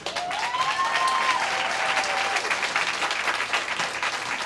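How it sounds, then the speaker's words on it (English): Audience at a Williamson County school board meeting breaks into sustained applause, a steady dense wash of clapping from a crowd in a hall. "please keep your claps and comments"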